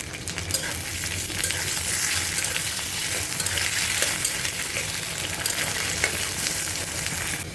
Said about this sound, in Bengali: এখন এটার মধ্যে দিয়ে দেবো আলুগুলোকে আমি হালকা ভেজে নেবো